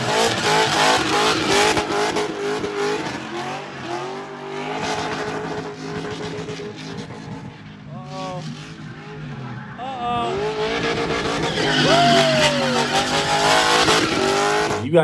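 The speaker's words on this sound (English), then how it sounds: "doing some drifting." A Nissan 240 with an LS1 V8 drifts on a race track at night, its engine revving loudly and repeatedly while tires squeal in long sliding bursts and other cars roar nearby.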